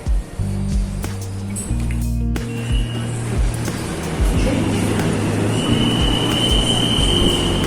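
A metro train in Telangana rumbles close by with steady low mechanical droning, a brief hiss burst, and a thin high squeal rising near the end; faint voices sit under the noise.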